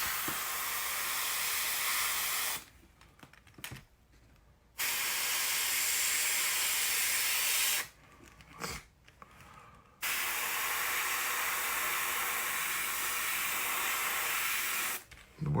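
Spray gun hissing out dirt track brown paint over black on a root beer pumpkin seed crackle finish, in three long steady bursts separated by short quiet pauses.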